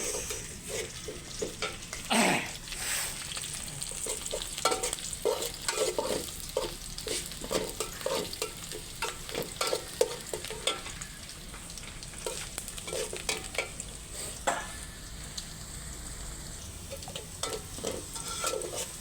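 Onions fry in oil in a large pot for chicken khichuri, a dense crackling sizzle with frequent scraping stirs throughout, close and steady with no voices.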